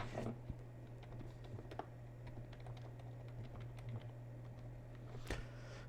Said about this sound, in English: I had to make sure you couldn't see me typing the password in